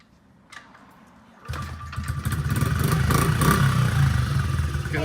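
A Honda CRF50 dirt bike engine starts up and settles into a steady, loud idle, its low putter running continuously close by with no talking over it.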